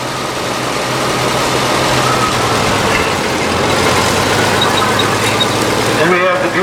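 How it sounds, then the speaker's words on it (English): A 1944 Oliver 60 row crop tractor runs in a parade, its engine giving a steady, fairly loud low rumble throughout under a busy outdoor wash of crowd and other noise. "they are driving a 1944 Oliver 60 row crop"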